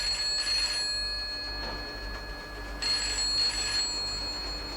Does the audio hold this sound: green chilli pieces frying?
no